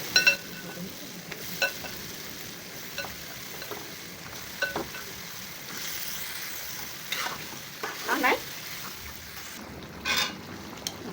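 Chicken pieces fry with spices in a pan for a cabbage-and-chicken dish, giving a steady close sizzle with intermittent scraping and stirring clatter throughout, without any speech.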